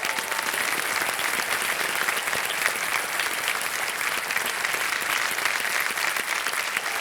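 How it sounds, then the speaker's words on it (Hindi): Steady, loud applause from a studio audience on the KBC India quiz show fills the air without a break, a dense clapping wash with no talk on top. "तालियां बजती रहें इनके लिए"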